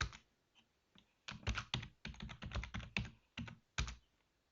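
Typing on a computer keyboard, a close run of quick clustered keystrokes with brief pauses, ending in a last isolated tap.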